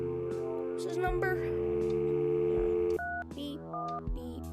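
Electronic beeps and tones of a phone being dialed in a video game sound in short stepped bursts over a steady background hum, with speech-like sounds mixed in.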